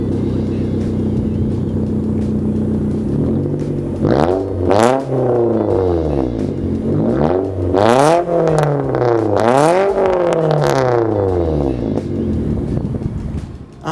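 Car with straight-pipe exhaust, open and unmuffled, idling roughly then revved several times in loud, raspy rising and falling swells, close by.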